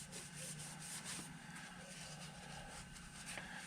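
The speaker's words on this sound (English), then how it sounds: "I'm just going to use this little rag here to go ahead and wipe down the surface" A cloth rag wipes and rubs over the metal differential cover of a 1999 7.3 truck, a steady close scrubbing texture that continues without pause for several seconds, alone with no talk.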